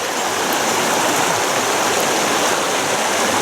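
Wyming Brook in the Peak District runs close by, a loud, constant rush of flowing water with no voices over it.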